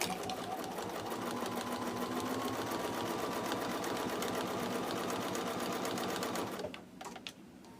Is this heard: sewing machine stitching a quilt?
yes